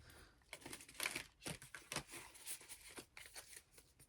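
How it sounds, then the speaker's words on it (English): Quick riffling and bridging of a deck of cards indoors, a series of crisp papery bursts repeating in uneven rhythm, close and fairly quiet with no talking. "Let me give these a quick little shuffle."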